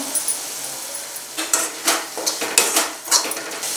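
A spoon clinks and scrapes against a metal cooking pan while tomatoes with salt are stirred, giving a series of irregular metallic taps and knocks, close and moderately loud, with a faint sizzle underneath.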